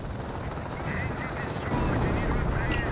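Tank gunfire from a Berkentica in the Company of Heroes game during a battle, heard as dense, continuous rumbling bursts of fire with noisy blasts throughout. The sound stays loud and steady across the whole stretch.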